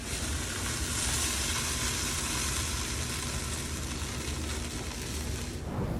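Bacon-wrapped chicken wings sizzle on a Vortex-fitted charcoal grill with a steady, even hiss of fat crackling that holds at the same level throughout, with no one talking.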